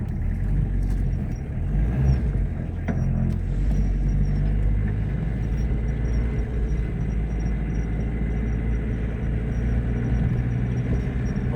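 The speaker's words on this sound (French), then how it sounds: "Ouais, elle marche bien cette voiture." An old diesel car engine runs steadily while driving, a continuous low rumble with even drone and no talk over it.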